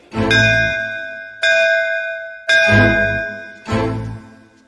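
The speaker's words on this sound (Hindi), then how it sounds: "3 बार घंटी बजा और निकल" A bell rings loudly up close four times in a steady rhythm, each clear metallic strike ringing out and fading before the next.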